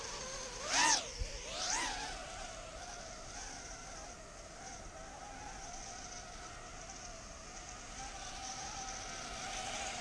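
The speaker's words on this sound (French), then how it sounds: "on voit qu'il est quand même assez stable pour un petit drone, parce qu'il y a beaucoup de vent aujourd'hui" An Emax Babyhawk mini drone flies outdoors in strong wind, its thin high whine rising and falling as it passes near early on, then holding a steady buzzing drone under wind noise.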